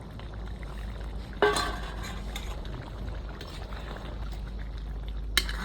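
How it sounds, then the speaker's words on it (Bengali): Fish tipped into a pot of simmering curry with potato and eggplant, a sharp splash and clatter near the start over a steady bubbling boil, with one more brief clink near the end. "রান্না হয়ে গেছে এবারে মাছটা ঢেলে দিই"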